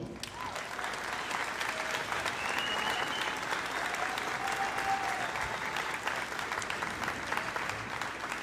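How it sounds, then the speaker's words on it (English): Graduates at a high school graduation ceremony give a sustained, dense round of applause for their families, filling a large space with steady clapping and scattered cheers. "let your parents, guardians, and other family members present know how much they mean to you with a round of applause"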